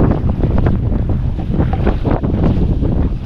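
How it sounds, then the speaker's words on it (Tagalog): Strong wind roars steadily across the microphone, a loud constant buffeting rumble with no pauses. "Kalakas ang hangin na."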